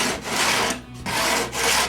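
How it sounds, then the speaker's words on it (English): Coarse 24 to 36 grit sandpaper rubbed along the edges of a board, heard as three loud, rough back-and-forth strokes with short gaps, close up and with no talking. "easy job with some really heavy, like 24 to 36 grit sandpaper. Just around the sides like that"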